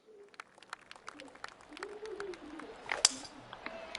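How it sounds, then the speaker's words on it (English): Scattered crowd clapping in the PGA 2K23 golf video game, light and patchy bursts of claps over soft ambience, with someone speaking faintly over it. "Oh, it adds crowd clapping as well."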